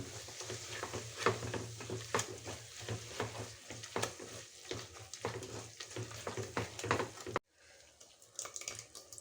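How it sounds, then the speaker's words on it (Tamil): Mint and coriander sauté in oil for mutton biryani, a close sizzling hiss broken by repeated scraping stirs, with a brief cut near the end and no talking. "இதை நல்லா வதக்கிக்கலாம்"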